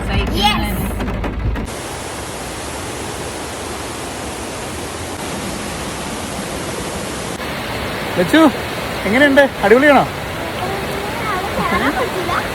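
Small mountain stream flowing near a bridge at a scenic hill spot in Idukki, a steady broadband rush of water running throughout, with people talking briefly over it near the middle.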